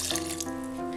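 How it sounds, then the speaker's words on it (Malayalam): Water runs steadily into a mixer jar holding rice and urad dal, a brief continuous pour with a faint ringing tone. "ഇതിൻ്റെ അകത്ത് ഞാനിപ്പോൾ 1/2 കപ്പ് വെള്ളം ചേർത്തിട്ടുണ്ട്"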